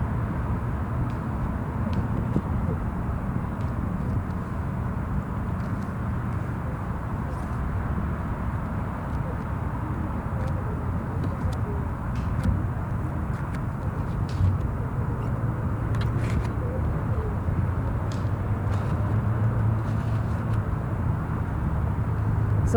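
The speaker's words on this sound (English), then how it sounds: "Waiting for this wind to die down just a tad." Steady outdoor wind blowing in a continuous low rumbling roar, with gusty swells and no speech over it.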